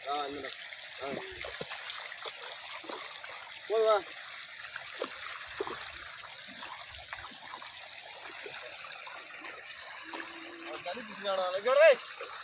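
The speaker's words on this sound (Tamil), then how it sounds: "எவ்வளோ தண்ணி ஆறு மாதிரி போயிட்டுருக்கு" Floodwater from a breach after a night of rain rushes like a river across farm fields, a constant, fairly close roar of flowing water under people talking and calling out at intervals.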